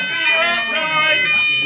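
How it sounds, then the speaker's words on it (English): An office fire alarm sounds continuously, a loud steady electronic tone rich in stacked harmonics that holds for the whole stretch with no break and no voices over it. "Oops, the fire alarm's gone off."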